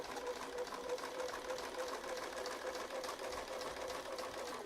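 A speed-controlled sewing machine stitches Dresden Plate quilt petals, a steady close mechanical whir with a fast even needle rhythm running without pause under faint background.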